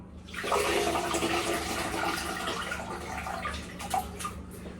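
Urad dal being washed in water for vada batter, with a steady rush of running, sloshing water that goes on unbroken and fairly loud, and no voices.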